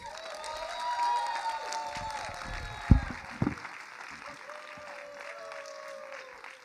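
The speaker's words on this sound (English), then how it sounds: "we're gonna give a warm welcome, a loud welcome, a thunderous applause for the lady herself, Miss Kia Whtllock." Women's empowerment conference audience applauding to welcome a speaker, sustained clapping with a few sharp louder claps and faint cheering.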